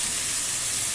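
Chopped tomatoes sauté in a pan for a vendakka kara kuzhambu, a bhindi gravy, producing a loud, steady hissing sizzle with no pauses and no voices.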